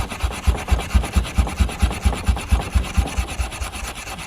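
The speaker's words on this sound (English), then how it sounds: "So we'll just rub from this side." A sharp garden tool blade is rubbed clean after floodwater, giving a loud, steady back-and-forth rasping scrape in even strokes, close up with no talking.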